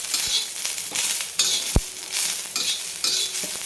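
Cloves and shahjeera roasting dry in a pan for a spicy masala eggplant dish, with steady scraping stirs, a few sharp taps of the spoon against the pan, and a light crackle underneath.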